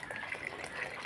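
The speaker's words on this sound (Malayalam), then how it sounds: "ഇതാ കഷായം തെളിച്ചൊഴിക്കുകയാണ്" A herbal decoction (kashayam) pours in a steady, soft liquid stream into a vessel, faint and continuous for about a second.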